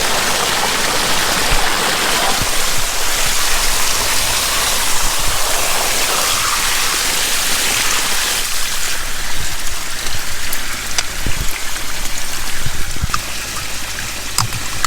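Irrigation water runs steadily in a broad, continuous rushing wash like a stream, loud and close, with occasional sharp splashes and knocks breaking through near the end.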